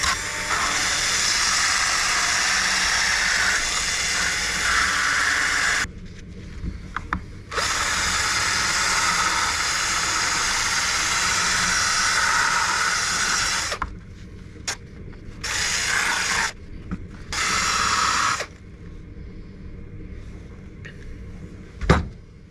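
A cordless drill spinning a small wire brush to strip rust from 1980s–90s Opel Omega car trim, a loud steady whine with grinding scrape that stops and restarts in short bursts toward the end, with mechanical clicks.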